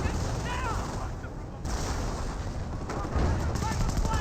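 Rifle and machine gun fire crackles continuously through a Company of Heroes battle, a dense, steady wash of gunfire with occasional heavier thumps from artillery, loud and sustained for the whole stretch.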